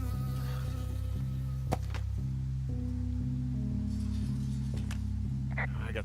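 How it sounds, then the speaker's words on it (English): A bee buzzes close in a wilderness setting. The drone is continuous and sits over low rumbling background sound, with a couple of sharp clicks along the way. "I got stung by a bee."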